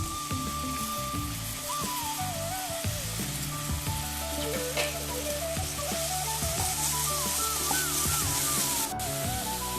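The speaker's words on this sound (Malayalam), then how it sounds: "അതിലേക്ക് നമുക്ക് കുറച്ച് എണ്ണ ഒഴിച്ച് കൊടുക്കാം. എന്നിട്ട് നമ്മൾക്ക് ചതച്ച് വെച്ചത് നന്നായിട്ട് വഴറ്റാം." Crushed ingredients for an egg roast are sautéed in oil in a pan, a steady soft sizzle that runs beneath a melodic background music track.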